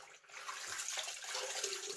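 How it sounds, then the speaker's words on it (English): Hot water splashes and trickles from a flannel held to the face before a shave, a soft, close, continuous wet sound with no talking. "hot water on a flannel"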